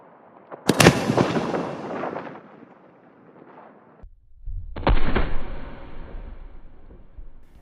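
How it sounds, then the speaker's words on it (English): A huge Tannerite blast about 100 yards away erupts with a sharp crack and long rumbling roar that fades, followed by a second deep boom and rolling low rumble, no voices. "I have no idea how big this explosion is going to be."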